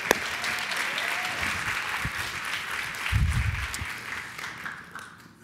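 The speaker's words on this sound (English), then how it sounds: "So can we give her a round of applause?" A church congregation gives sustained applause, a dense wash of many hands clapping that holds steady and then tapers off toward the end, with faint voices mixed in.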